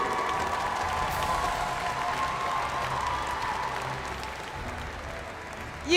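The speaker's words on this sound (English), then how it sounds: "let's give a big round of applause" An arena crowd at the M5 World Championship esports knockout stage applauds, a sustained wash of clapping mixed with faint cheers that holds steady throughout.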